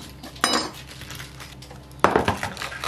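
Cabbage pickle pieces are packed into a container, giving two sharp, close clatters of utensil against the container about a second and a half apart, with quieter handling noise in between.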